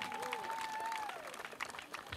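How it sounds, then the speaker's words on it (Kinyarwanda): An audience at a church gathering claps in a dense, steady burst of applause, with a sustained whistle-like tone rising over the crowd before fading. "Reka dukomere Imana amashyi nimba koko mushaka igitaramo."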